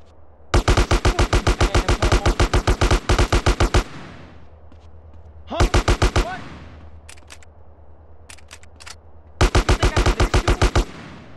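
Three bursts of rapid automatic gunfire from the video game GTA San Andreas, a long volley followed by a short one and a final burst, loud and close with quieter gaps between.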